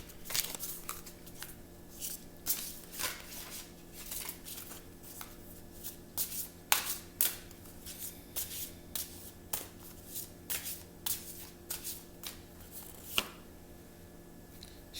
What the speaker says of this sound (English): Let me pick a few more cards from this deck.